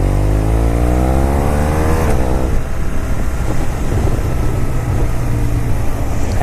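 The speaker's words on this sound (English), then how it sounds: "It's so much fun accelerating and hearing the exhaust" A car accelerates hard with a loud exhaust note, the engine revving upward through rising harmonics before a gear change near two seconds, then continuing to pull strongly; close and loud, no talking.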